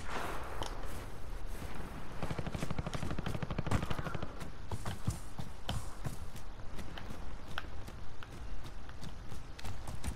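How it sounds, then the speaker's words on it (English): Gunfire in Call of Duty: Warzone, a run of sharp, spaced shots cracking over steady in-game footsteps and movement, with some bursts close together. "I hear shooting."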